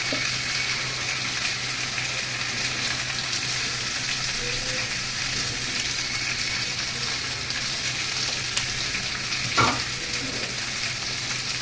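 Food sizzles steadily in a frying pan before tomatoes go in, a continuous close crackle with occasional stirring scrapes and a brief clink near the end.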